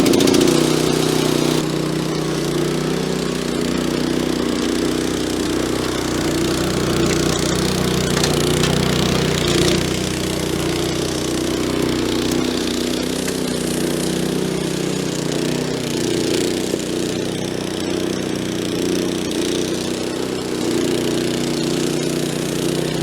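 A Weibang petrol scarifier runs on a lawn at its highest setting, its engine droning loud and steady throughout with a rough mechanical rattle from the blades working the turf.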